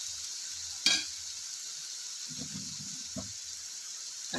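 Dry fruits fry in a spoonful of ghee pushed aside within a sugar mixture, a steady close sizzle with soft scraping stirs and one sharp clink of the spoon against the pan.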